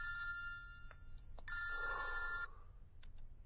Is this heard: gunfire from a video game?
no